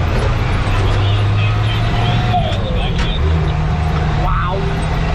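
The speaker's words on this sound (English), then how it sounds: "You ain't ever seen a sad person when they hear this truck coming." A heavy International truck with a DT466 engine, hauling corn silage, drones steadily up close, a low continuous rumble with road noise throughout.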